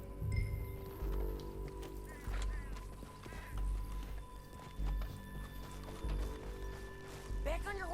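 Rhythmic hoofbeats of a galloping horse in the Red Dead Redemption 2 video game thud in repeated surges, with a whinny, game music and speech layered over the running.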